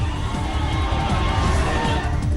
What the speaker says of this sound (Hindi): समर्थकों की दिखी भारी भीड़।